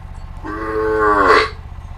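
A single loud, drawn-out moo from a Khillar cow close by, rising and then breaking off, with a low steady rumble underneath.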